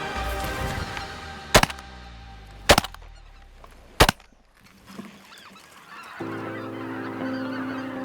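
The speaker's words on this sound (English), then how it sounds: "Here comes a whole bunch of ducks." Geese and ducks honk in flight over an Alberta waterfowl hunt, with three sharp shotgun blasts ringing out before a steady chorus of calls builds near the end.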